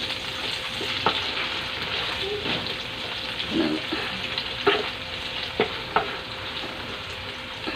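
Buro, fermented rice, frying in oil and being pressed in a pan, with a steady crackling sizzle broken by a few sharp scraping and pressing knocks from the utensil.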